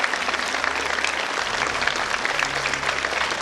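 Audience applause at a film event as lights and sound crew are credited, a thick sustained burst of clapping from a large crowd, loud and steady with a low hum beneath.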